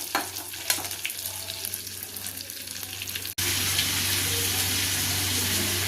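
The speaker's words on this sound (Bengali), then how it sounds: "10 মিনিট ধরে প্রায় উল্টে পাল্টে মাছগুলোকে ভেজেছি।" Spice-coated fish frying in a pan: a steady hiss of sizzling oil with a few faint clinks, broken by a brief cut, after which the frying continues louder and more even.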